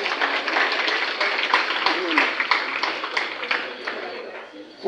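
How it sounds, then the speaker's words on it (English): An audience at a flag-raising ceremony gives a round of applause, dense steady clapping from many hands close by, slowly thinning toward the end. "Let's give them a big round of applause."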